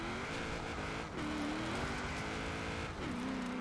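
Car engine in Forza Horizon 4 driving close to a wall, a steady loud drone with two brief dips where the pitch drops and climbs again, no voices.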